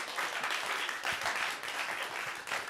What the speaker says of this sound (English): Please give a round of applause to our treasurer